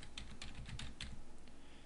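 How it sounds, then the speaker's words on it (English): Quick, light keystrokes on a computer keyboard while entering a search in the Windows Start menu form a short, steady run of soft clicks, close and quiet, with no talking. "I could just start typing and that new folder will disappear"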